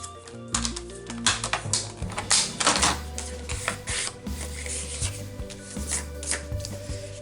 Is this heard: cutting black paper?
yes